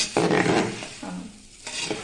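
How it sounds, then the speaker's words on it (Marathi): Puffed rice is stirred into a hot tempering (phodni) in a pan for Kolhapuri bhadang, giving a few loud, close scraping and rustling strokes over a faint sizzle, with no voices. "आपले सगळं मिक्स करून घ्यायची पहिली फोडणी"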